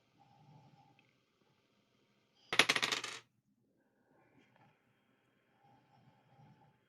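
Lucky dice tumbling onto a hard surface, a single loud clattering roll lasting under a second, with quiet room noise and faint murmurs before and after.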